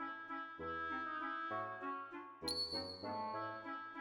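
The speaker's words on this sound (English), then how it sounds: "My dad gave me this bell so I would never get lost." A small bell chimes in the video game Xenogears, one bright ding standing out over steady game music that keeps playing throughout.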